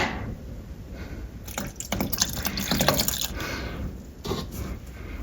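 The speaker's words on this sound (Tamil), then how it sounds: "தேங்காய் பால் கேஸ் ஸ்டவ் ஆஃப் பண்ணிட்ட அப்புறம் சேர்த்துக்கணும்" Coconut milk poured into a pan of thickened milk for Chettinad-style paal kozhukattai, off the heat, giving a close, soft liquid pour with gurgles and drips that swell midway and then trail off.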